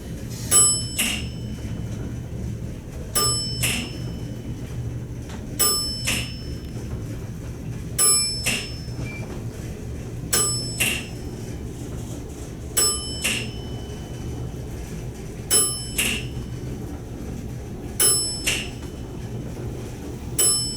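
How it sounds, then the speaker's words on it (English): An Otis express elevator arrival bell at Macy's in Chicago rings a bright, clear ding about every two and a half seconds, nine strikes over a steady low hum of machinery. "I love that bell, it's epic."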